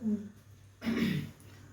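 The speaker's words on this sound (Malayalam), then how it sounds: "ഒന്ന് ചുമച്ചു നോക്കാം" A person gives two short, rough throat-clearing coughs, close and fairly quiet, after eating a homemade cough remedy of small shallots and jaggery. The first cough is very brief, and the second is longer.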